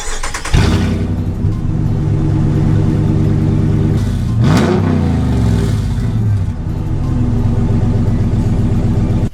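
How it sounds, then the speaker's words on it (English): A Ram 1500 with a 5.7 Hemi V8 and no exhaust fitted starts up with a loud, raw rumble, holding a steady idle before a sharp rev that climbs and falls back, then settles into a continuous, close and unmuffled drone. "Fired up with no exhaust on it."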